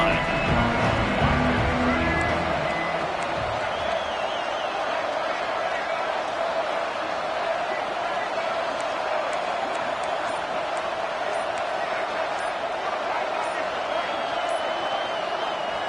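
A packed stadium crowd roars loudly and without a break at a Colorado vs TCU college football game, a dense, steady wall of noise that lasts the whole time.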